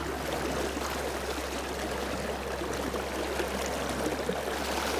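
A river current flows steadily near the middle of a fly-fishing river, a continuous, fairly loud rushing wash with no other sounds.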